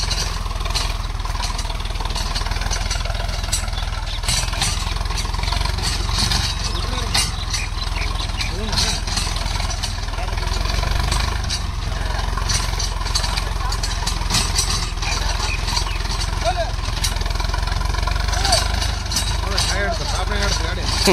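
Ace 350 40HP tractor pulling a 6-foot rotavator in third gear under load, a steady continuous engine drone with mechanical rattle throughout, with people talking over it.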